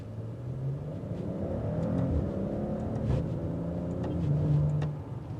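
A Maserati Quattroporte Modena pulls away in first gear, its engine note rising steadily as a smooth, moderately loud rumble that swells near the end, with no talking.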